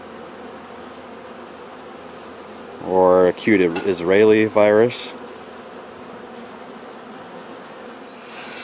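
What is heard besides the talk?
honeybees buzzing in the hive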